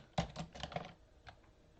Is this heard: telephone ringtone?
no